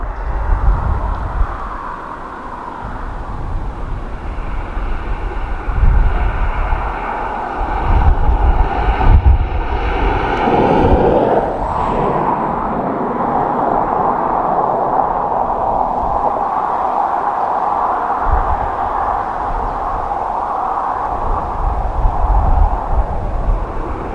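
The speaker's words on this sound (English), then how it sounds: "Spoilers up, reverse thrust." An airliner landing at Dublin Airport with spoilers up and reverse thrust, a loud, sustained engine roar that swells midway with a rising whine, then settles into a steady rumble, heard from outdoors with wind noise.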